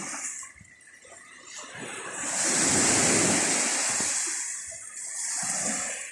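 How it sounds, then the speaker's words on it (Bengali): Sea waves roar onto the shore at Char Fasson, Bangladesh, as a loud wash of surf that swells and fades, with wind buffeting the microphone. "সমুদ্রের গর্জন"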